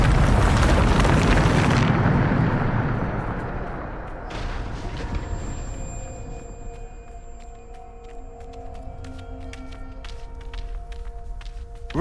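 Bombardment spell explosions in Hogwarts Legacy: a loud, broad blast that decays over a couple of seconds, a second smaller burst, then ringing tones and scattered crackles fading out, with no talk.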